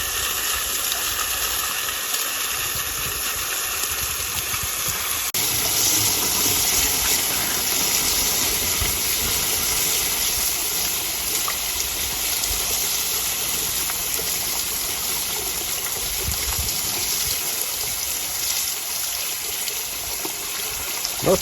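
Steady rushing water pours out of a drilled hole with a constant hiss and trickle, loud and close, continuing without pause for the whole stretch.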